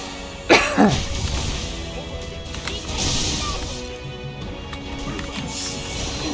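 A couple of sharp, close coughs near the start, then quieter room noise with faint rustling.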